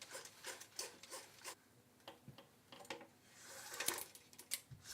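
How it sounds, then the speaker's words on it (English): A tension cable is fed through the end cap of a hem bar on a TESS 660 installation, giving soft intermittent rubbing and scraping sounds, close and quiet, with no talking. "feed the tension cable into the hem bar end cap. The cable will feed through and it is guided to the other side."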